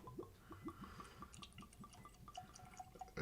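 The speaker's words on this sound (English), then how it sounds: "Let's see if we can get a gurgle out of this unique bottle shape." Whisky glugs rhythmically from a uniquely shaped bottle of Glen Grant 15-year-old Batch Strength as it is poured, a steady run of close, distinct gurgles with no talking over them.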